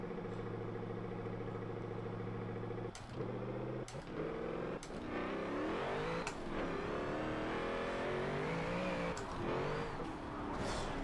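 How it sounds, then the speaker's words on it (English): A 1000hp drag-build race car in Forza 7 accelerates hard through sixth gear, its loud, steady engine roar climbing in pitch with sharp shift breaks, continuous and alone for about eleven seconds. "Sixth gear pull away."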